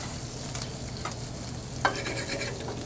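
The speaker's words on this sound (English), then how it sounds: "I'm going to give this pan that has my mushrooms and my shallots in it just a little bit of a toss" Mushrooms and shallots are tossed in a hot pan over a steady sizzle. Soft shuffling stir sounds run throughout, and a sharp metallic clack comes near the middle.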